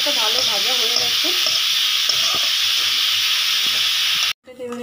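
Masala spices frying in a pan for ghugni make a steady, close sizzle that runs loud and even throughout, with a few faint stirring scrapes, then the sizzle suddenly cuts off near the end.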